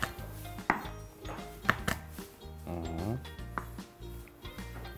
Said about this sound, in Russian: Чеснок просто раздавливаем ножом.